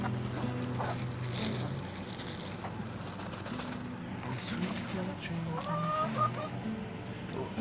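Chickens clucking close by while they peck at kitchen scraps on a farm, with short, irregular calls scattered over steady background noise.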